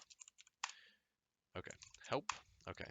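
Keys clatter on a computer keyboard in a quick burst of clicks while commands are typed into a Minecraft server console, followed by a pause and then a person speaking.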